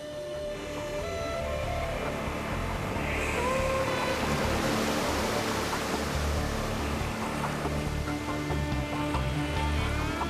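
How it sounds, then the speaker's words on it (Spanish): Ocean waves roll at open sea off the Canary Islands, a broad continuous wash of surf with wind, steady and fairly loud, with music layered over it. "Un trozo de madera flota a la deriva a merced de las olas."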